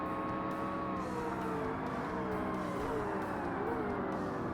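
A Ferrari engine in the Forza Motorsport racing game screams at the top of its revs, a loud continuous whine with wavering pitch as the car is pushed hard on track.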